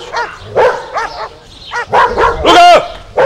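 A dog barks in a series of sharp, close barks and short yips from a 1999 Polish film scene, the bursts coming in an irregular run and getting louder toward the end.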